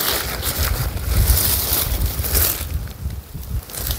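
Wind gusts across a garden plot at a small farm where wood-chip mulch is being spread, giving a steady broadband rush with low rumbling buffets on the microphone and no voices.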